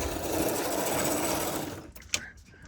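A 1949 2-rail model locomotive motor whirs and strains under applied power, a buzzing high-pitched drone that holds steady for most of the clip, then cuts out, leaving a few small clicks.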